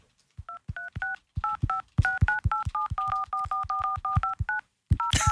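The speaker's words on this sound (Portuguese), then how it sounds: "Podemos ter só um telefone agora?" A telephone number is dialed as a rapid series of touch-tone beeps, each paired with a soft click, evenly spaced and clear up close, ending with a burst of noise.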